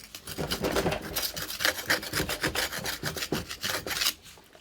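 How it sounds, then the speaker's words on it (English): A cheap Dollar Tree kitchen knife drawn through a plugged-in Chef's Choice Model 110 electric sharpener, giving repeated close, gritty rasping strokes in an uneven rhythm with brief pauses between passes. "Let's see if this sharpener will fix this Dollar Tree knife."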